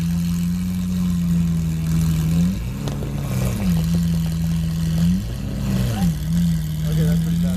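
A Lamborghini Aventador S V12 idles with a loud, steady low hum at a cars-and-coffee meet in Dallas, broken by two or three sharp revs that rise and fall back, with people talking nearby.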